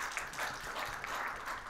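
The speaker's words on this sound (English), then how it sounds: "Can we have a huge round of applause for him?" Brief applause from an audience welcoming a panelist at an agricultural products event in Manipur, a soft, steady patter of clapping at a distance.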